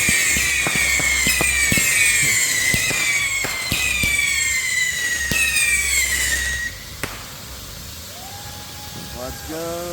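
Anvil fireworks from a Fourth of July season display go off in rapid whistling, crackling bursts, with descending whistles and sharp pops layered over a low rumble before fading to quieter distant crackle and a few rising whistles.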